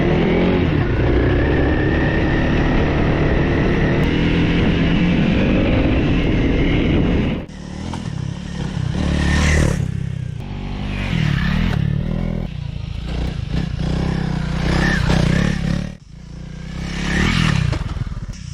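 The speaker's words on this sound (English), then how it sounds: "This is a bike that can move on dirt easily." A Honda CRF 300 L motorcycle rides on dirt, its engine loud and revving for several seconds, then dropping into uneven bursts with clattering and scraping from the trail.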